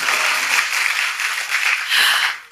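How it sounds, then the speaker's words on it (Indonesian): A church congregation claps together during a sermon, a dense, even wash of applause that swells and dips over a couple of seconds. "Ayo yang semuanya tepuk tangan."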